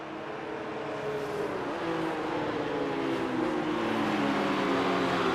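Race cars in a racing video game accelerate at a safety car restart, engines whining and climbing in pitch as they rev up, loud and continuous with several cars overlapping.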